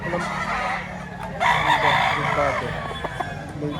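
A chicken crows at a poultry market in Lipa, Batangas, its drawn-out call rising over a busy background with people talking nearby.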